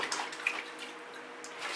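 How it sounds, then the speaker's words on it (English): Soft, close splashing of tap water as acrylic paint is rinsed off a hand, a faint continuous wash with a few brief brighter splatters. "I'm going to use all of that just wound up in my hand and rinse my hand off"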